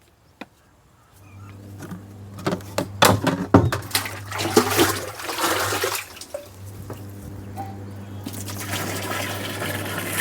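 Tap water running and splashing into a container to fill it for mixing herbicide for a beans crop, a steady gush with sloshing bursts after a brief quiet start, fairly close.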